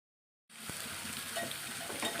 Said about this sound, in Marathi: आता हे आपल्याला भरलेल्या मिरच्या सगळ्या तेलामध्ये घालायचे।